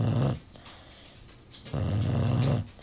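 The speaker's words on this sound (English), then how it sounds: "dog sitting Mo, who is wide awake right now and still snoring." Dog snoring, a dog being dog-sat at home, sounding as two long, low rasping breaths close by, the first cut off early and the second swelling after a quiet pause.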